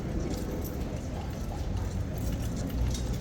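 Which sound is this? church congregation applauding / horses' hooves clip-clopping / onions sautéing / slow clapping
horses' hooves clip-clopping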